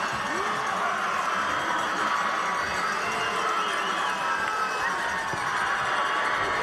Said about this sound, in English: This Trinity crowd is fired up